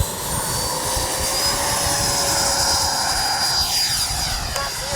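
A Freewing 90mm F-22 Raptor RC jet roars past in flight, a loud steady ducted-fan whine with a sweeping pitch change as it passes overhead, continuous for the whole stretch with no talk.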